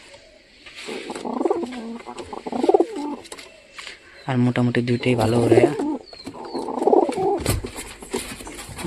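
Pigeons in a loft cooing in several low, throaty bursts, close by, with someone speaking between and over the calls.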